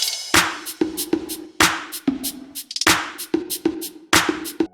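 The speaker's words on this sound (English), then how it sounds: "The clap and snare backbeat with all the other percussion sounds I introduced sound like this." Backbeat hits from a clap and snare layered together land steadily over bongos, shakers and rolling trap hi-hats, forming a dense, loud percussion groove with no voice.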